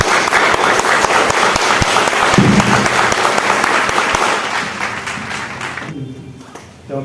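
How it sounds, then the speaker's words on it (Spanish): Applause from an audience at a book presentation in Spanish, a dense sustained clapping from the crowd that stays loud for about six seconds and then fades. "del doctor Osmar González Alvarado, para quien pido fuertes aplausos."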